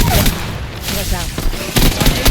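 Enemy gunfire rattles out in a video game as loud, dense, rapid bursts of shots close up, clustered in quick volleys over a noisy background.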